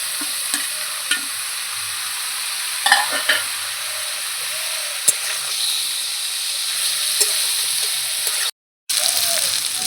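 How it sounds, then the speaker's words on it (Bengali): Boiled eggs frying with masala in a pan make a steady close sizzle, with stirring clinks and scrapes scattered throughout and a brief dropout near the end. "এই ডিমটাও দিয়ে দেবো একসঙ্গে সব কিছু কষাবো"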